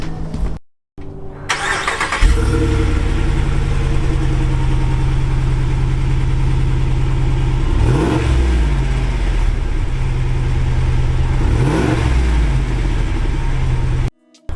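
A Ram 2500 pickup truck engine with stock exhaust cranks and catches after a brief silence, then idles with a steady low rumble, revving up twice in short bursts before cutting off.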